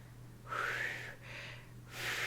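Breathy, airy blowing repeated two or three times, a failed attempt at whistling that produces only a faint hissy tone, close to the microphone.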